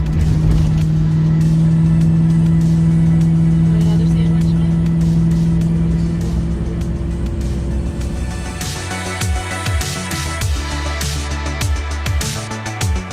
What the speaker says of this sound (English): We're all back in the car and we are off once again.